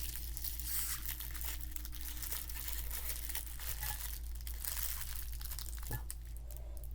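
Yellow cellophane snack wrapper crinkling and crackling steadily up close, with soft irregular rustles and a sharper crunch near the end, no talking.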